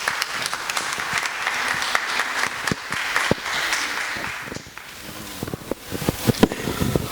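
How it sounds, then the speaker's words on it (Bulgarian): A television studio audience applauds a guest on a Bulgarian talk show, with dense, loud clapping that dips briefly and then continues as scattered, sharper claps. "Моля, аплодисменти за Тома Вашаров."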